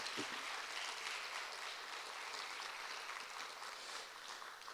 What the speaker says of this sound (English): Let's give all these young ladies a big round of applause.